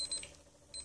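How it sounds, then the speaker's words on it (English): Electronic beeping alarm from a small solar-powered wind turbine desk clock, quick high-pitched beeps in short bursts, fairly quiet and close. "There's our alarm. It's not super loud."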